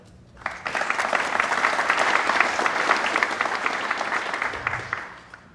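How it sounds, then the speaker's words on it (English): A conference audience applauds for the next speaker, clapping swelling quickly into a dense, steady round that holds for several seconds before tapering off, heard from within the room. "big round of applause for our next speaker, Oleg."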